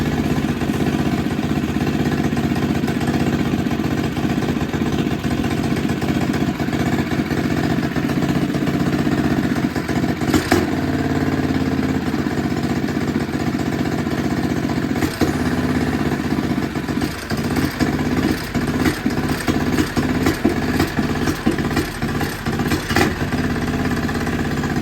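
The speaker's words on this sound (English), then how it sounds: "see once if I can start it up" A mini bike engine with a VM22 carburetor runs nearby at idle on choke, a loud continuous mechanical drone with a steady low throb, growing slightly lumpier and uneven with small surges toward the end.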